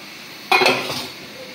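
Okra and Malabar spinach go into a simmering small-fish curry in a village kitchen. A single brief, close clatter and splash fades into a soft sizzle.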